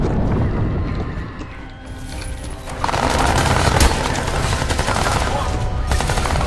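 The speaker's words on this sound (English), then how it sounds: "What are they shooting at me when I'm cloaked?" Repeated gunfire from enemies shooting at the player in the video game Crysis 2, dense and continuous with sharp bursts throughout, loud and busy with mechanical clatter mixed in.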